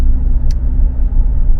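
Inside a moving car, a loud, steady low road-and-engine rumble fills the cabin, with one brief high chirp partway through.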